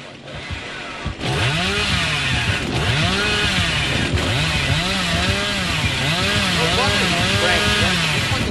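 The killer's chainsaw in Dead by Daylight revs loudly and close, engine pitch rising and falling in repeated surges after a brief quieter start, with a voice talking underneath.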